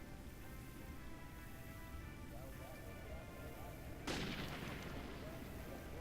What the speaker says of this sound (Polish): Tak, i to był strzał do nas.